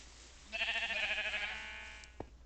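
A sheep in Minecraft gives a single wavering bleat, fairly close and clear, followed by a small click near its end, with no talk over it.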